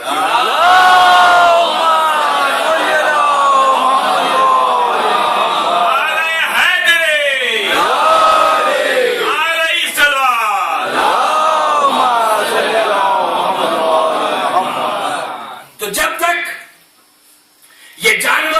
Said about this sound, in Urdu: ایک اور بلند ترین صلوات۔